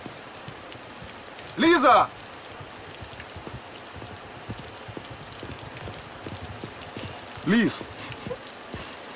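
Steady rain patters down outdoors, a constant close hiss with scattered drops, while a woman twice calls out loudly over it.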